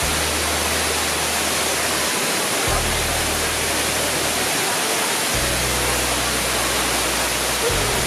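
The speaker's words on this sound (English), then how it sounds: "And let's look at the waterfall." Steady broadband roar of rushing water, like a waterfall close by, constant and loud with a low rumble pulsing underneath.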